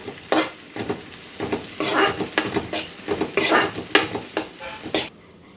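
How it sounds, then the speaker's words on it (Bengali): Coriander leaves being stirred into chicken kosha in a pan, loud close scraping and knocking of a spatula against the metal in uneven strokes over a frying sizzle, ending abruptly. "দিয়ে ধনে পাতাটা দিয়ে নেড়ে চেড়ে এটাকে রাখবো"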